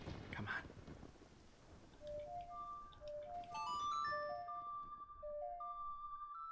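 Storm ambience from Zelda: Ocarina of Time: soft rain hiss and low rumble open quietly, then a sequence of clear tonal chime notes rises and rings out over the faint rain.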